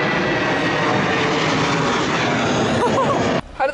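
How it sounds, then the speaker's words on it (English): A low-flying airplane roars overhead, a loud, steady engine drone filling nearly four seconds before dropping away, with faint voices at the end. "How do those low-flying planes make you feel?"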